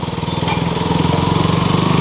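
A KTM motorcycle engine, a bike with a heating problem, idles steadily close by with a rapid, even pulse and no talk.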